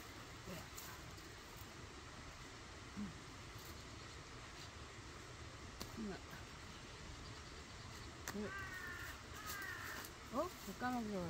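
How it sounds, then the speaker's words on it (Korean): A crow caws outdoors on a wooded mountainside, with a few short calls spaced through the clip against steady background noise and some nearby activity. "왜 까마귀가 와?"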